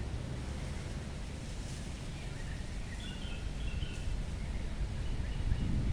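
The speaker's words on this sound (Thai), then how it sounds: "โอ้ลมแรงแล้ว ลมค่ะ ลมแรงวันนี้หนาวค่ะเพื่อนๆ" Strong, cold wind gusts across a home vegetable garden where dill grows in old tires, a steady broadband roar that swells slightly toward the end, with no voices.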